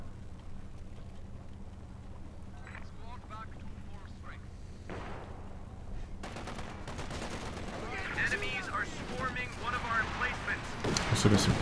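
MG34 machine gun firing incendiary rounds in a Company of Heroes 2 battle, rapid bursts of gunfire over a rumbling battlefield backdrop, growing busier and louder in the second half with other explosions mixed in.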